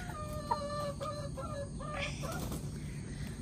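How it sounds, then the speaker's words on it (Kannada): Hens and roosters being let out in the morning cluck repeatedly in short, moderately loud calls over a steady background hiss. "ಬೆಳಿಗ್ಗೆ ನಮ್ದು ಫಸ್ಟ್ ಡ್ಯೂಟಿ ಏನಂದ್ರೆ ಈ ಕೋಳಿ ಹುಂಜನೆಲ್ಲ ಹೊರಗೆ ಬಿಡುದು"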